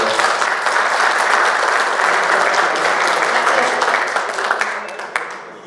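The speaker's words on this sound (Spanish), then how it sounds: "Le damos un fuerte aplauso, por favor." A seminar audience breaks into strong, dense applause that holds steady for several seconds, then thins out and fades into scattered final claps.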